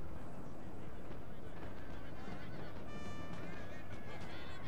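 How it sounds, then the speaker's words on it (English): Cavalry horses charge in the Napoleon: Total War battle between Prussia and France, with horse whinnies and hoofbeats over dense battle noise; a voice talks over it. "now I charge my horses against them"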